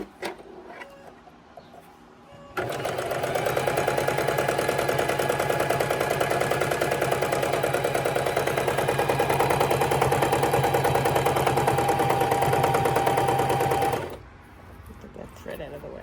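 Sewing machine stitching straight onto fabric, following a drawn plant and flower pot design; a steady, close, continuous mechanical whir runs unbroken for about twelve seconds, with quiet room sound before and after.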